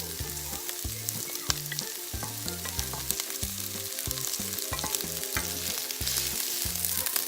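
Onions sautéing in a pan for corned beef hash with potatoes, a constant close crackling sizzle under a heavy looping musical beat, with no speech.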